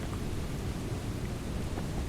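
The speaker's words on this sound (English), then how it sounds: "it's raining so damn hard I can't see too far away" Heavy rain pours down on the airship map in Killing Floor 2, a dense, steady hiss and rumble that fills the whole stretch without letting up.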